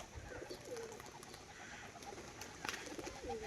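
A female tumbler pigeon, black-eyed and white with black spots, makes soft, repeated cooing and rustling sounds close by at a steady low level, with no talking.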